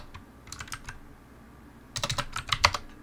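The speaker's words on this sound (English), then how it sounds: "Make sure to type it correctly." A short search term is typed on a computer keyboard, with a few scattered keystrokes followed by a quick, close burst of clicks, and no talking.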